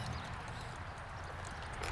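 Three draft horses walking in harness while pulling a plow through a field after rain, a soft steady patter of hoofbeats under low outdoor noise.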